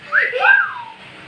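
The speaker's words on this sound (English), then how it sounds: "You whistle." Someone whistles a short rising-and-falling tune, alone and fairly close, lasting about a second before it fades into quiet room noise.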